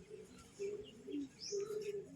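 A pigeon coos softly a few times in short, low, rolling calls, faint and fairly close, with a quiet chirp in the background.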